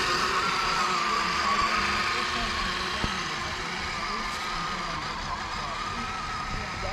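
A 4.7-liter van with all-time four-wheel drive drives along with a steady, droning engine hum and road rumble, continuous and close from inside the cabin, with one brief knock partway through.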